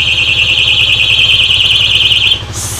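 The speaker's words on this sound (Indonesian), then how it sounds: "Alarmnya nyala gara-gara gua gas." A vehicle alarm sounds with a loud, steady high-pitched tone over a low engine rumble, triggered by revving; the tone cuts off near the end and a brighter electronic chirp follows.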